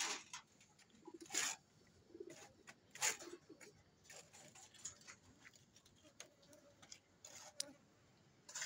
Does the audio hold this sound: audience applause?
no